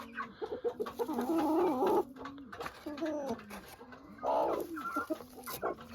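Bantam Cochin chickens clucking inside a coop, several birds close by in overlapping bursts, with a few softer coos and rustles between the calls.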